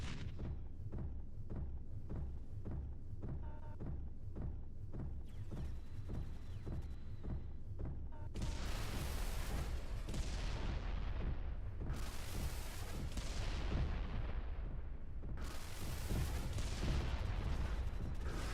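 Grenade launcher explosions in the video game Kingdom Come Deliverance II, a steady run of rapid booming blasts that grow into loud, wide bursts with long roaring decays, repeating every few seconds with no talk.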